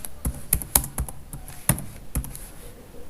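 Typing on a computer keyboard while writing C code: a loose, irregular run of crisp key taps, some louder clacks standing out, close up with no speech over it.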